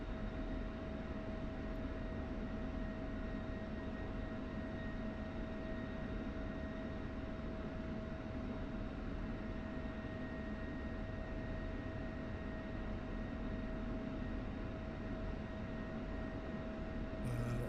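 Steady, loud roar of an F-16 Viper jet engine idling before takeoff in the DCS flight simulator, a continuous broadband rumble with a constant tonal whine throughout and no talk.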